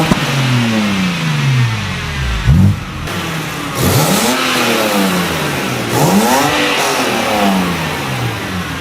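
A BMW E90 or F10 with a Supersprint sport exhaust revs repeatedly, loud sweeping rises and falls with crackling overrun between blips, close and alone without speech.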